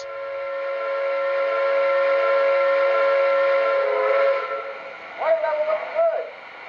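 An O gauge model train's whistle sounds steadily, then fades and gives way to shorter wavering whistle blasts near the end.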